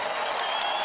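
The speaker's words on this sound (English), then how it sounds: "Crowd reacts." An arena crowd at a UFC heavyweight fight cheering and applauding after an elbow lands, a brief dense roar of clapping and voices heard up close and loud.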